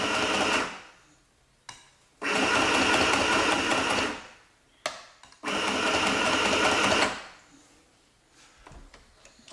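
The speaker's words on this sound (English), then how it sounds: "to stop stitching, they say just hit the reverse." A Singer M1000 sewing machine stitches in two long, steady whirring runs of about two seconds each, separated by short clicks and brief taps, heard up close and alone.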